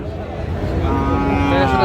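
A cow at a busy Jaipur cattle market selling Sahiwal bull calves lets out one long, loud, low moo close by, over faint background crowd noise.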